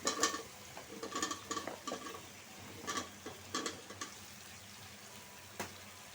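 Potatoes tipped into a pan of sautéed spice paste for a thin chicken curry, giving a soft, steady fry under a handful of close clinks and stirring knocks, fairly quiet overall.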